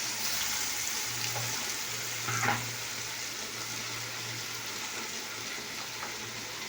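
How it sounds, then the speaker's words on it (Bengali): Ginger-garlic paste frying in hot oil with bay leaf and cinnamon, a soft continuous sizzle with a low hum and a brief clatter midway, fairly quiet and close. "এখানে দেখো আদা রসুন ভাজা আছে, এটাকে আমি দিয়ে দিলাম"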